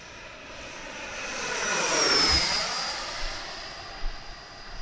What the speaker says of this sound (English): She's a pretty plane